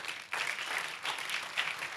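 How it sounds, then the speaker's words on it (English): A town hall meeting audience applauds volunteers, a short burst of moderate clapping that rises after a brief lull and carries on in uneven swells, somewhat distant and unaccompanied by talk. "Can we give these guys a round of applause?"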